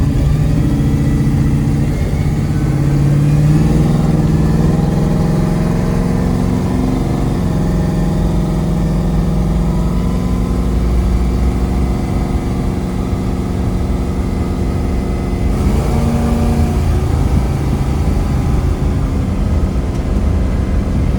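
A 1972 Chevrolet Nova's built small-block V8 drones steadily from inside the cabin while driving, a deep, constant rumble with a slight change in pitch partway through.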